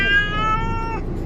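A cat upset during a vet visit lets out one drawn-out, strained meow, close and fairly loud, trailing off after about a second.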